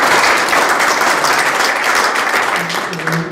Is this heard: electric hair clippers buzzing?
no